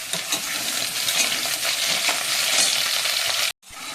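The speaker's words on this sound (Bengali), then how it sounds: "এপাশে আলুটা ভাজা হচ্ছে।" Potatoes frying in oil in a pan, a dense continuous close sizzle that cuts off abruptly near the end.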